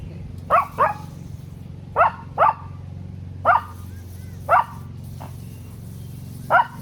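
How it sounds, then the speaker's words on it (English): A dog barks incessantly outdoors in short separate bursts, often in pairs, spaced a second or so apart over a low steady hum. "I can tell by his barking incessantly"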